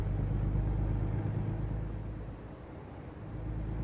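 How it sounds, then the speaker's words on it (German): A truck engine in the American Truck Simulator game drones as the truck drives, a steady low rumble that eases partway through and then builds again, with no voices over it. "Aber der Sound ist von dem LKW ist wirklich geil."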